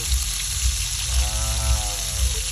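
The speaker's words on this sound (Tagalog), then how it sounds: "Guys, piniprito ko na siya bago natin siya gawing steak para mas yummy siya guys." Chicken frying in hot oil for a spicy chicken steak, a steady close sizzle and crackle with low bubbling pulses throughout.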